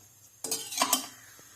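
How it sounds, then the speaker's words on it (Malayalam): Metal spoon stirs Thrissur-style koorka curry in a pot after water is added, scraping and clinking against the sides for about a second before quieting, close and clear with no talking. "ഞാൻ ഇതിലേക്ക് കുറച്ച് വെള്ളം ആഡ് ചെയ്തിട്ട് മിക്സ് ചെയ്ത് ഇങ്ങോട്ട് പാരുന്നുണ്ട്."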